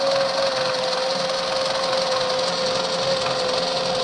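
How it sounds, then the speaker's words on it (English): An electric sailboat drive motor runs on a bench test, giving a steady, even electric hum with a fixed whine held at one pitch the whole time, close and alone. "At this point, we're going to start up the motor and watch the display."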